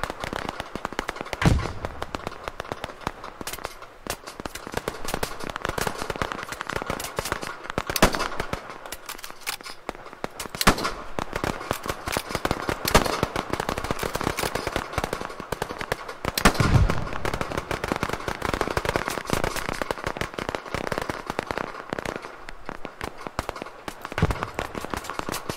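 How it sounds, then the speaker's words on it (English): Sustained automatic gunfire from the military shooter game Operation Harsh Doorstop, with dense bursts of shots and occasional louder reports running continuously and loud throughout. "I gotta count my rounds when I shoot."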